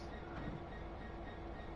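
A train in the video game Train Sim World rumbles steadily with a constant mechanical drone and a faint tonal whine, close and unbroken for a brief moment.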